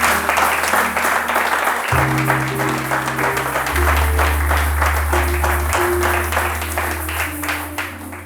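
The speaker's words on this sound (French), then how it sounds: "Qui peut acclamer le Seigneur de grâce." A church congregation claps and applauds in praise of the Lord, a dense steady patter of many hands lasting several seconds while sustained organ or keyboard chords play underneath.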